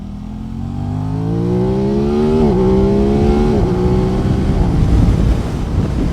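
A sport motorcycle accelerates hard on a windy highway, its engine pitch rising and then dropping sharply at two quick-shifter gear changes, with wind buffeting the microphone throughout.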